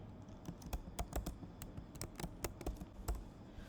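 Rapid keystrokes on a computer keyboard while an email address is entered into a trading broker's account sign-up form, with crisp, uneven clicks close by and nothing else around them.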